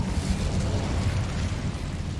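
The Incendio fire spell being cast in Hogwarts Legacy gives a loud, sustained roaring whoosh of flame with a rumbling low end, dense and continuous for about two seconds, with no voices over it.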